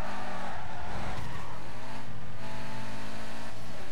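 A Subaru in the racing game Need for Speed Carbon roars along at high revs as its tires skid and squeal, a loud, continuous engine and tire noise with no pauses.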